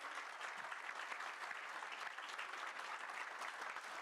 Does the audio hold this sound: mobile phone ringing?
no